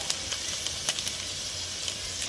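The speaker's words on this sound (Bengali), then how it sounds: "মশলাটা ভালো করে কষিয়ে নিতে হবে" Spices with ginger, green chili, garlic, turmeric and chili powder sizzle in a pan for sesame chicken, a steady bright hiss with scattered small pops and crackles.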